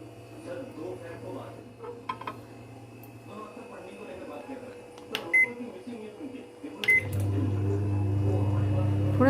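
A microwave oven runs with a steady low hum, heating a bowl of lemon water after a few clinks of dishes and beeps. The hum grows louder and continues alone toward the end.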